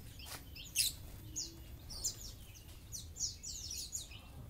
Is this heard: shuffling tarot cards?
no